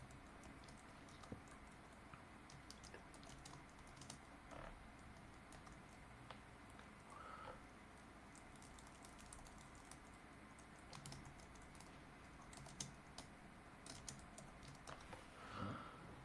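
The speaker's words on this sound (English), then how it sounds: "I'm just typing in my notes from the last game." Steady typing on a computer keyboard as notes are entered, a continuous close patter of quiet key clicks with a few louder taps, and no talk over it.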